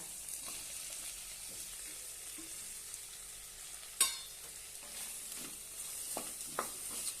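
Okra and potatoes stir-fried together in a pan make a quiet, steady sizzle, with a sharp clatter of utensil against pan near the middle and a few light scraping stirs toward the end.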